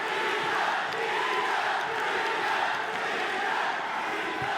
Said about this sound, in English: What we heard from the crowd there, that was the chant for Kingad.